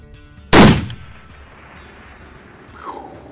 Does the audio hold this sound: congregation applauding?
no